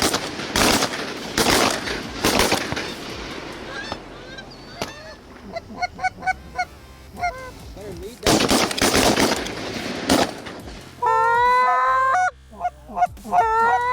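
A flock of geese honks during a goose hunt as several loud, close shotgun volleys ring out between the calls. Some of the honking may come from goose calls, and a final burst of honking sounds near the end.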